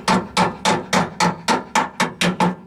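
A hammer taps steadily to seat the front shock absorber on a VW Bus, about ten evenly spaced sharp metallic blows in quick succession. The blows are close and loud, with no talk.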